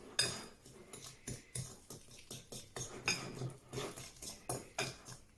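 Banana pie batter is mixed in a bowl for a pan-cooked pie, with a quick, steady run of close scraping and tapping strokes of a utensil against the bowl.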